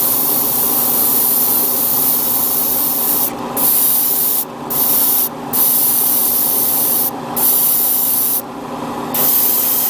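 Airbrush spraying paint onto an HG 1/144 Gundam model kit, a loud continuous hiss broken by several brief pauses as the trigger is released and pressed again.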